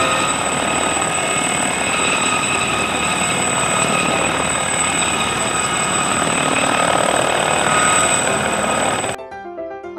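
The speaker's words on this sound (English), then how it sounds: "H for helicopter." A helicopter sound effect in a children's phonics song: a loud, steady whirring roar that runs unbroken, then cuts off abruptly into light music.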